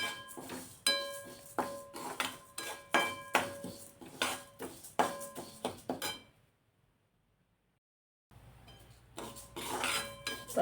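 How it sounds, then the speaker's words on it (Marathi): Urad dal roasting in a pan is stirred with a metal spoon, giving rapid close scraping and clinking strokes in a steady rhythm, broken by a brief silent pause before the scraping resumes. "अगदी छान मध्यम आचेवरती आपण ही खमंग आणि थोडासा याचा रंग चेंज होईपर्यंत भाजून घेणार आहोत"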